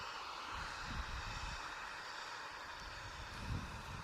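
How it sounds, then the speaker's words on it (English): A 26-year-old Jet2 Boeing 737-800 airliner departs Manchester Airport for Venice. Its engines produce a faint, distant, steady roar, with low rumbling surges swelling briefly, and no voices. "737-800 in the jet2.com livery. This is 26 years old, this aircraft, and it's off to Venice."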